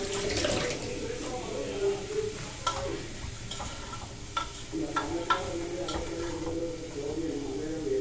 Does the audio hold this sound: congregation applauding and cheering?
no